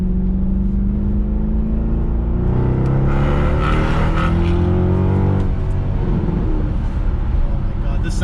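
A Mercedes C63 AMG driving in winter, its engine and exhaust roaring loudly up close, the pitch climbing under acceleration then falling back, with a person speaking over it.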